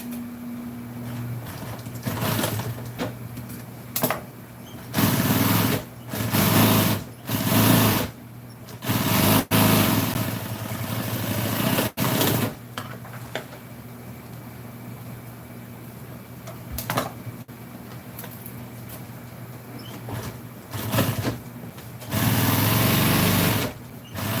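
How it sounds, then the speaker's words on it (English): An upholstery sewing machine stitches a beauty shop chair cover and its boxing strip, running in loud, close bursts of steady mechanical whirring separated by short pauses. "I'm just gonna go ahead and start sewing this up."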